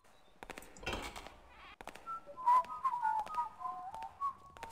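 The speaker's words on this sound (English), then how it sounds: "Whole lot of whistling going on." Whistling in the stealth video game Thief, a wavering tuneful melody carried by a character, moderately near, following a couple of short thuds and clunks at the start.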